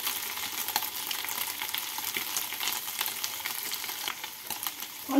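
Cumin potatoes (jeera aloo) frying and being stirred in a pan, a steady close sizzle with scraping stir strokes running throughout, no talking.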